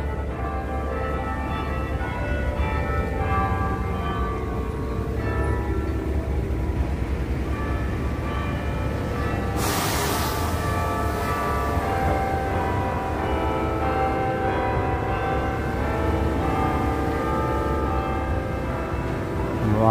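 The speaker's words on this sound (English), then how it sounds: "let's listen to the bells." Bells ring out across New York City, a steady layered peal of tones sounding continuously and fairly loud, with a brief broadband burst partway through and no talking.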